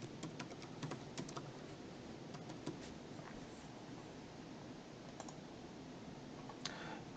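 Fingers tap out a search on a computer keyboard while working in Microsoft Dynamics 365 Business Central: quick, faint bursts of clicking keys over a quiet steady background, with no speech.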